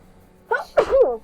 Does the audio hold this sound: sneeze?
yes